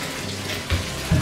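A shower running in a hotel bathroom, a steady hiss of falling water with a couple of brief heavier splashes near the end.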